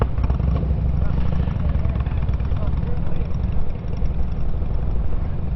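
Motorcycles rumble together in a dense, continuous low engine drone at a Blessing of the Bikes gathering in Taylors Falls, Minnesota, with people talking over the noise.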